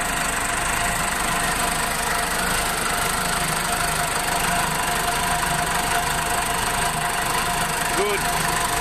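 A Case 4390 diesel engine in a JI Case 480 backhoe loader, freshly overhauled, running at a steady idle with a constant rough drone and knocking texture, close and continuous.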